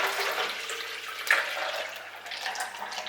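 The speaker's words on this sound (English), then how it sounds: "So we pour the coffee into this container." Coffee poured steadily into a large solid container with a wide flat bottom, a continuous watery splashing rush lasting a few seconds with a brief brighter splash partway through.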